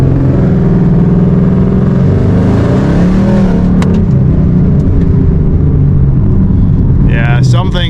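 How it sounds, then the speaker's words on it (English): A wrecked, rebuilt Mustang being driven with a loose-feeling front end, its engine droning loud and close inside the cabin, swelling as the throttle opens, while someone talks over it. "Let's see if we give it some gas here"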